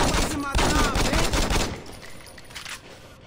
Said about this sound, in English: that shotgun really did the number